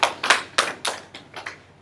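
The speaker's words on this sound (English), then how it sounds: "Give him a hand clap." Several distinct hand claps from a few people in a classroom, about seven sharp, uneven slaps spaced over two seconds and fading toward the end, close by and fairly loud.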